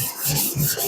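A 250mm Takeda NAS blue super steel gyuto is hand-sharpened on a stone, a short close rasping rub of two quick back-and-forth strokes.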